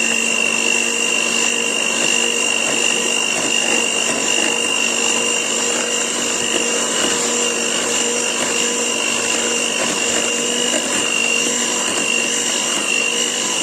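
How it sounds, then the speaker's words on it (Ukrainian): An electric hand mixer whips steamed apple filling for an apple pie, producing a continuous, loud, even motor whine that holds steady throughout with no pauses or voices. "І зараз я її буду збивати міксером."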